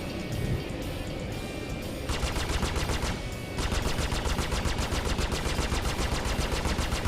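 Ship weapons on an Aegis Sabre fighter in the Star Citizen game firing in rapid bursts, loud close repeating shots with brief pauses between volleys.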